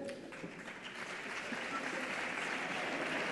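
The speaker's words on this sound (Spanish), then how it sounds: "Fuerte el aplauso para él." A live audience at a television awards gala bursts into steady, building applause welcoming a singer to the stage, a dense crowd of clapping that swells slightly and continues throughout.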